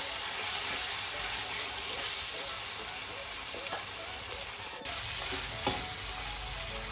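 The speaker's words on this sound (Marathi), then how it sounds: "एक 4 ते 5 मिनिट आपल्याला याला तेलामध्ये पूर्ण फ्राय करायचं आहे" Chicken curry masala frying in oil in a pan, a steady close sizzle with soft stirring scrapes and a couple of sharper clicks, no talk over it.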